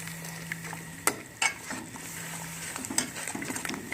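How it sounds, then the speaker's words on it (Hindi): Yogurt and spices fry in a pot for chicken yakhni pulao, with a low sizzle broken by a few sharp clinks and scrapes of a spoon against the pan, quiet and close. "और साथ ही दही डाल देंगे। अब हम इसे अच्छी तरह भून लेंगे।"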